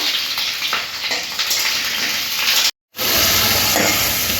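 Potato pieces frying in hot oil while being stirred, giving a loud, steady sizzle and hiss with a brief dropout partway through.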